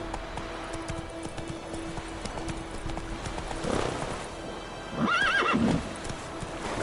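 Roach, the horse from The Witcher 3, clip-clops along at a steady trot before giving a loud, close whinny near the end, with hoofbeats continuing under the neigh.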